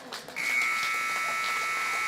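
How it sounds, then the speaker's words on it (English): Basketball scoreboard buzzer ending a quarter at a high school playoff game in a gym, a single loud, steady electronic drone that starts abruptly and holds for nearly two seconds over crowd murmur. "That's the buzzer."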